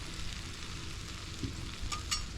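Vegetables sauté in a breakfast skillet with a steady, close sizzle and crackle throughout, broken by a couple of brief sharper pops near the end.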